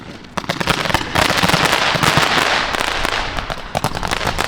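Fireworks and firecrackers bursting continuously in a dense, crackling barrage, loud and close, with rapid overlapping pops and bangs filling the whole stretch and no pause between them.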